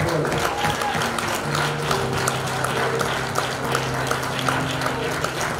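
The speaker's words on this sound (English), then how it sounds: "Let's give God a hand clap of praise." Church congregation clapping in praise during a Sunday morning service, a steady dense patter of hands filling the room, with sustained organ or keyboard tones and some voices underneath.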